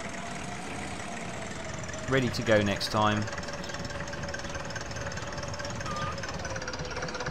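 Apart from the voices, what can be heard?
tractor engine idling, from video game Agricultural Simulator 2013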